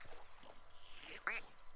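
A small duck in the Viva Piñata video game gives a couple of short, nasal quacks, close and fairly faint, over a quiet game background.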